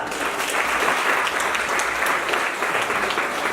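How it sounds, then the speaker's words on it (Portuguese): A church congregation at a regional ministry gathering applauds with a full, even roar of clapping that holds steady with slight swells. "Vamos aplaudir essa palavra?"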